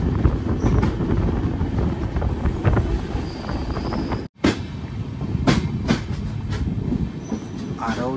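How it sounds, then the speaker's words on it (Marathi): Diva passenger train passing on the Konkan Railway, a steady loud rumble of wheels and carriages with brief clatter and a short dropout midway. "समोरनं येता आपली दिवा पॅसेंजर"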